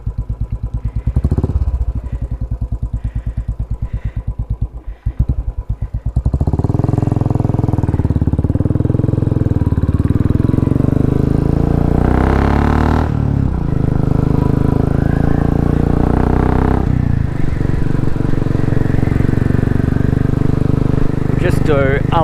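A Royal Enfield Classic 500 motorcycle fitted with a Race Dynamics Powertronic piggyback ECU thumps at idle, then pulls away and rides steadily, its engine drone loud and close with a few throttle surges.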